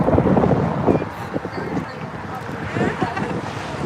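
Strong wind roars and buffets the microphone continuously at an outdoor protest in Fort Worth, a loud rumbling wash that covers the whole stretch.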